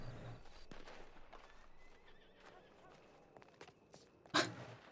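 A horse in a video game lets out one loud, sharp whinny near the end, rising above a quieter game ambience with faint hoof clops earlier on.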